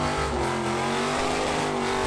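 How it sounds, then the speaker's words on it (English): Screaming V8 engines at the SEMA car show: a loud, sustained high-revving engine roar with a steady tonal drone, heard close and alone. "if you look through the tyre smoke and screaming V8 engines"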